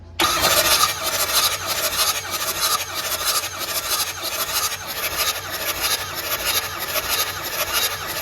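A Ford Excursion engine fires up and runs after an injector replacement, a loud, steady mechanical clatter with a rough, raspy texture that holds on without a break.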